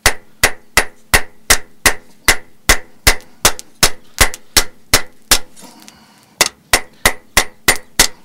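Steady, evenly spaced hammer blows ring out on a knife blade over an anvil while it is forged by hand, about twenty loud metallic clangs with a brief pause near the end before the rhythm resumes.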